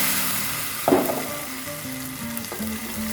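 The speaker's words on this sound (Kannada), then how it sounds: "ಈಗ ಕರಿಬೇವು ಹಾಕ್ಕೊಂತೀನಿ ರೀ. ಈಗ ಅದು ಕೊಬ್ಬರಿ ಚಟ್ನಿ ಒಗ್ಗರಣೆ ಒಳಗೆ ಹಾಕೋತೀನಿ ರೀ." Curry leaves dropped into hot oil for a coconut chutney tempering, setting off a sudden loud crackling burst that settles into a steady sizzle, with another small flare near the end and quiet background hum.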